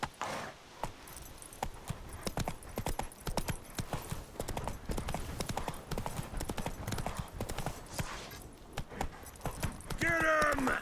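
Roach, a horse in The Witcher 3, gallops with steady, loud clip-clop hoofbeats under shouting and combat sounds from the game, with a brief whinny-like tone near the end.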